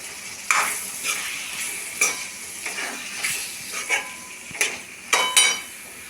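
Prawns frying in a pan for a spicy village-style curry, with a steady sizzle broken by repeated clinks and scrapes of a spoon as they are stirred, close and fairly loud, no talking.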